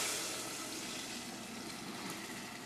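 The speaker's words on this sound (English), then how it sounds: "Just want to tan the garlic cloves just nice and brown." Garlic cloves browning in a pan for a pasta sauce, a soft, steady broadband sizzle that holds evenly at a fairly quiet level with no voices over it.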